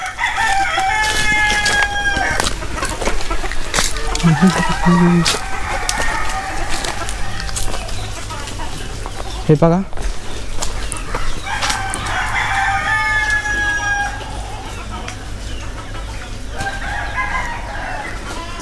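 Native gavran chickens and roosters on a two-story shed poultry farm, with several roosters crowing in long calls and hens clucking around them, close and loud, while someone speaks briefly.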